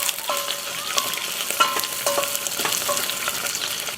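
Paella ingredients with black tiger prawns and chicken fry in a pan on a braai, giving a steady, close sizzle with occasional stirring clinks and scrapes and no talking.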